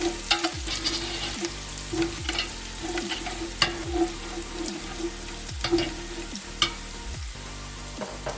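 Curry leaves drop into hot oil already holding ginger, garlic and green chilli for a Kerala-style fish head curry, giving a steady close sizzle with repeated scraping stirs and a light background hum, no voices.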